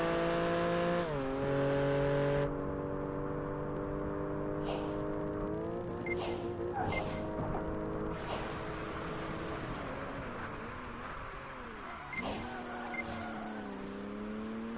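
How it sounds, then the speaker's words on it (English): Engine drones rising and falling in pitch as cars race and rev in the Xbox 360 racing game Project Gotham Racing 4, with synthetic tones and occasional scraping, steady throughout. "And the car noises."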